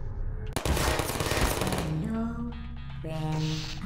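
In the video game Portal, a turret fires a rapid, loud, continuous burst of gunfire, followed by electronic tones and whirring as the stream of shots ends.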